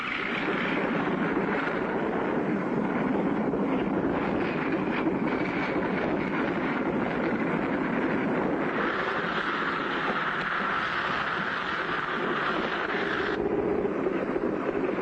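A cartoon propeller airplane descends to land, its steady engine drone and rushing wind noise filling the whole stretch at an even level, with a shift in pitch partway through and no voices heard.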